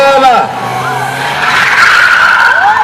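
Monster truck stunt vehicles roar at full throttle, with loud rising engine revs and tire skids carrying on throughout, a commentator talking over them.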